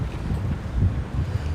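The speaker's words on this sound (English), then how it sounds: "It's super windy." Gusty wind on a Brooklyn street in Williamsburg in fall, a steady low roar buffeting the microphone with stronger surges, continuous and fairly close throughout.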